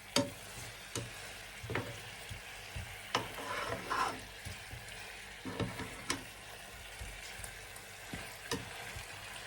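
Chicken adobo being stirred as it fries in a pan, giving a steady soft sizzle broken by regular scraping and clinking strokes of the utensil against the pan, moderately close.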